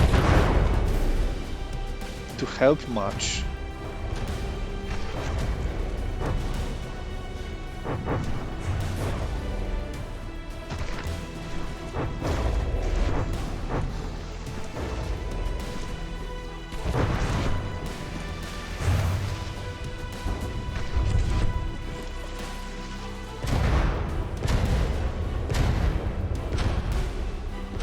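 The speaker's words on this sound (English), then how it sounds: "the explosions slowly roll it" Repeated booming blasts and crashing impacts from a naval battle game pitting a longboat against a dreadnought, dense and continuous, with rumbling low end throughout.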